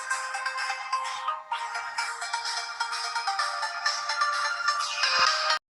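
Bright, busy music from a tiny Bluetooth speaker at max volume with bass boost, thin and tinny with little low end, playing continuously before cutting off abruptly.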